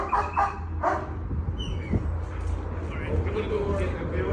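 A dog barks a few sharp times early on, with further yips and whimpers beneath louder overlapping voices and background noise at a tense police arrest scene.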